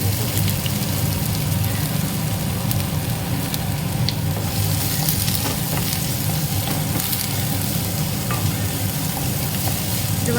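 Chopped onion and garlic sauté in a hot pan for a banana flower stir-fry, giving a steady, dense sizzle and crackle that stays close and even throughout with no talking.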